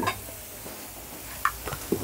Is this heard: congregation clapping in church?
no